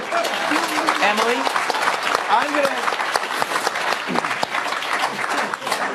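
A studio audience claps through a live morning news show, continuous applause with a voice talking over it and brief whoops rising above the clapping.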